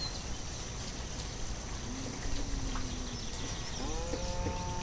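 Bleating and lowing of beef cows in the farming game Banished, a few drawn-out calls heard faintly against a steady wash of ambient background noise.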